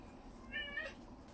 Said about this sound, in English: You may hear my cat or the next door dog